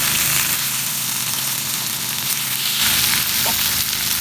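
Fish and plantain grilling in a covered pan, a steady close sizzle and crackle that carries on without pause and with no voices.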